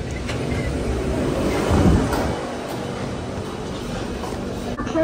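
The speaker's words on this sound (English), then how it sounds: "This is an extra train." A Circle Line metro train (C830 trainset) rumbles steadily nearby, its low roar swelling briefly then settling into a continuous hum with faint clanks; no talking.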